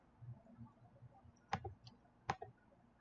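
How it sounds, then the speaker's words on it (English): A few sharp key presses on a computer keyboard while an access code is entered, two louder clicks standing out amid light clatter in a quiet room. "So I'll type in that access code I was given"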